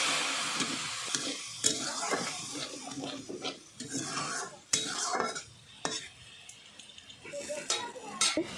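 Curry being stirred and mixed with mustard paste in a cooking pan, with a utensil scraping and clinking against the metal in an irregular run of strokes and a soft sizzle underneath.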